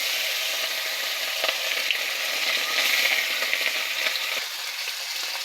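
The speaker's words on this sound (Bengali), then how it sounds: "প্রথমে মাছগুলো ভালো করে ভেজে নেব।" Pomfret fish frying in hot oil, a steady close sizzle and crackle that runs throughout with small pops and no one speaking.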